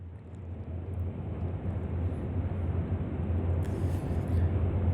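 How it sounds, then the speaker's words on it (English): An airplane cabin ambience sample from a neurofunk track gives a steady, broad, low roar of aircraft engines and air that holds throughout at even loudness, with a faint high hiss near the end and no talk. "the concept for the track was basically to have this feeling that you're in an airplane with this sort of aircraft ambience"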